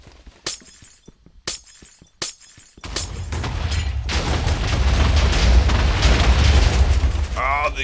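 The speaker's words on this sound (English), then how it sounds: "the explosion just stopped me from jumping" Explosions in the Minecraft Missile Wars game: several sharp separate bangs early on, then a long loud crackling, crumbling roar of blasts and debris that fills the rest of the clip.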